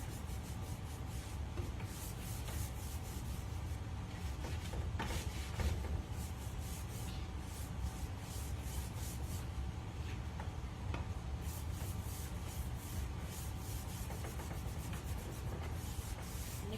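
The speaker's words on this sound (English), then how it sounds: "Can kind of go in different directions to massage the wax into the paint." A cloth rubs clear wax into the painted surface of a dresser, making a steady, close scrubbing swish with shifting strokes that runs continuously without talk.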